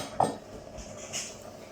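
A metal splatter guard set onto a cooking pan gives a single light clink, followed by a faint metallic tap amid quiet kitchen background.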